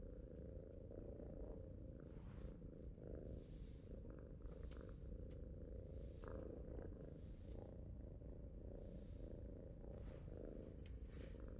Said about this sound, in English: Cats are like little didgeridoo players. They purr when they inhale and when they exhale.